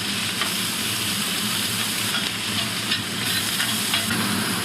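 Thinly sliced food stir-fries quickly in a very hot, steaming pan, a dense continuous sizzle with faint scraping from stirring, close and steady with no speech.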